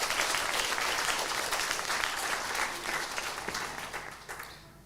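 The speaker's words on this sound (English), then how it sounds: "I think that deserves a round of applause." An audience at a learning disabilities and autism leaders' awards ceremony breaks into sustained applause, a dense wash of many hands clapping that slowly thins toward the end.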